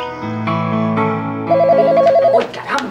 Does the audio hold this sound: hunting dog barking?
no